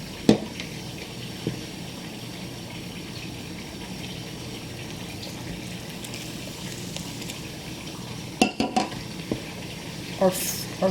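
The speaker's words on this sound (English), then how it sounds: "Our fries are still frying for that 5 minutes" Cajun-style fries frying in hot oil, a steady low sizzle and bubbling carried throughout, with a few sharp clinks of a skimmer or pan near the end.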